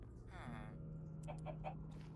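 A chicken in the Spore video game gives a few short, close clucks in quick succession over a quiet low hum.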